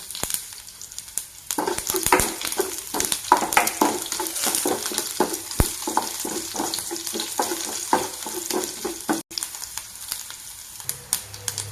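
Crushed garlic fries in hot oil with cumin and coriander seeds for a Kerala-style chickpea curry, giving a continuous close sizzle broken by rapid, regular scraping and tapping of a spoon stirring the pan.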